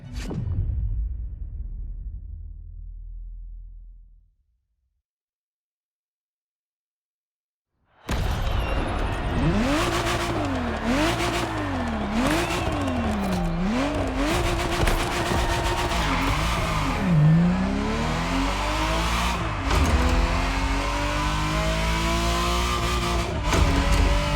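A Ferrari Testarossa engine revving after a short silence, loud and close, the pitch rising and falling through repeated throttle blips with whooshing passes and a continuous roar to the end.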